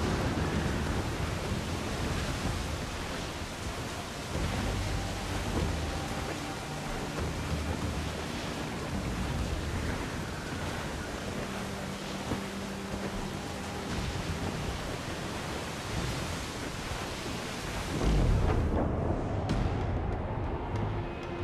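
Storm at sea in Assassin's Creed IV: Black Flag, heard aboard a sailing ship: a dense, loud roar of wind, rain and crashing waves runs continuously, with a heavy surge and boom near the end.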